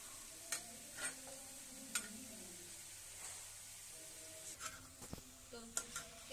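Golgappe puris frying in oil on a low flame, with a soft steady sizzle under occasional light clinks and stirring taps of a utensil against the pan, quiet and close.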